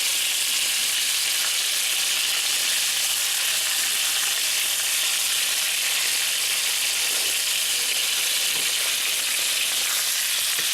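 Pork chops fry in a hot pan with a steady, loud, bright sizzle that hisses continuously and evenly throughout, with faint crackles and no talking.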